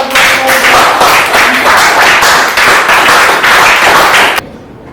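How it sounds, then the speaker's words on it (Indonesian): An audience at an indoor classroom training session applauds loudly. Dense, steady clapping lasts about four seconds, then cuts off abruptly into near silence. "berikan tepuk tangan yang meriah"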